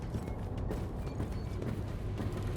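Heavy door mechanism grinding open in Warhammer 40,000 Rogue Trader, a steady low rumbling and ratcheting churn with faint creaks, moderately loud and continuous throughout.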